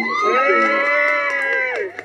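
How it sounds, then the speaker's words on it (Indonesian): Excited crowd at a wedding celebration (hajatan) cheering and shouting, loud and close, with sustained voices rising together and falling off near the end. "kasih tepuk tangan dong"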